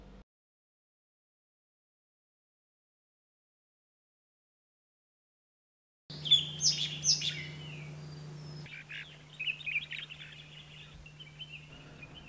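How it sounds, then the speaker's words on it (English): Birds chirp in a mountain setting, with bright, quick calls starting after a long silence. The tweets come in lively clusters, fairly faint and distant, over a low steady background hum. "The chirping of the birds"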